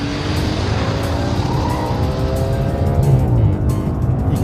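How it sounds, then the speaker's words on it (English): A 2010 Audi RS5 engine revs up hard on an empty road in Spain, climbing in rising harmonic sweeps to very high rpm, loud and close, with continuous mechanical roar and no talk. "You can hear the engine spinning up,"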